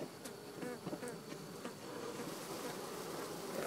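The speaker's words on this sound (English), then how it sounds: "Oh yeah, good little cluster of bees." A cluster of honeybees buzzing inside a water main access, a dense continuous hum of many wings, faint and steady throughout with no talking.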